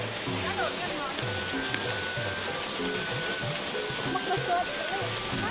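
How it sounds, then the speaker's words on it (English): A natural waterfall roars in a steady, dense wash throughout on a wild trekking trip, with people talking faintly underneath the rushing water. "Enjoying taking photos with a natural waterfall, which is our own private waterfall"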